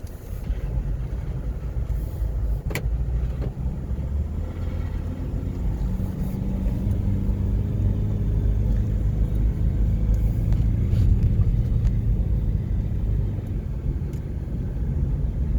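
A 2007 Honda Civic on the move: steady low road and engine rumble with tire noise throughout, close and continuous, riding a little rough, with a brief click near the start and no talking.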